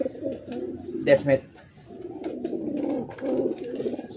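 Racing pigeons coo softly in a low, throaty murmur that runs through the whole stretch, while someone speaks briefly in the middle.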